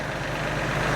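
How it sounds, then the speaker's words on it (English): A gear drive tractor engine idles nearby, a steady, loud, low rumble that holds even throughout. "So this is a gear drive tractor."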